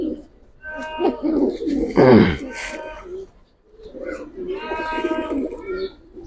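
Black-necked Giribaz pigeons cooing close by in a pair of soft, throaty rolling calls, with someone talking in between and over them.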